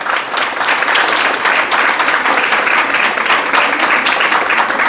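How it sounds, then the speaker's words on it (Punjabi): Audience applause at a girls' college event in Nawanshahr, a dense, steady wash of many hands clapping together, loud and continuous throughout with no pauses. "ਪਲੀਜ਼ ਤਾੜੀਆਂ ਮਾਰੋ ਇੱਕ ਵਾਰ"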